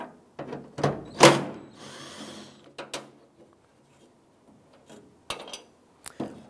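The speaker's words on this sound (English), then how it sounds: "Using a 10 millimeter socket and extension, we're gonna go ahead and remove this bolt" A 10 mm socket and extension removing a tailgate bolt on a 2000-2006 Toyota Tundra, with short ratcheting and clicking bursts and metallic taps, close and intermittent, separated by quiet gaps.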